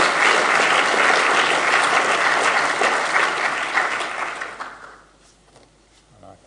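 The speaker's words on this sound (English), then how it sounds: "a round of applause for Peter" At an international semantic web conference in Auckland, an audience applauds an award winner with loud, dense clapping that holds steady, then fades out, leaving near quiet with a faint voice at the end.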